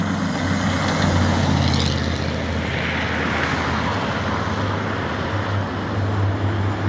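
Dense traffic with microbuses (combis) roars along a busy, curving boulevard, Carmelitas Boulevard, in a steady, loud wash of engine rumble and tyre noise with no pause.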